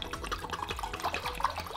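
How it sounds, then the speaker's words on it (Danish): Ice-cold water runs and drips close by, a burbling, gurgling trickle with small irregular splashes, brief and fairly quiet, with no talking. "det første, jeg faktisk gør om morgenen, det er at lige tage noget iskoldt vand"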